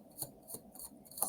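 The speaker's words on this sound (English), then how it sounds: "One more shuffle." A deck of tarot cards is shuffled in a few quick riffling bursts, each a short crisp papery rasp, close by and fairly quiet with no talking.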